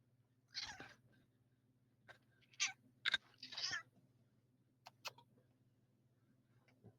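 A cat meows several times in a quiet indoor room, with short close calls spread over a few seconds above a low steady hum.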